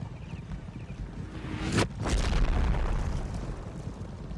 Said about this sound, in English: Getting artillery fire.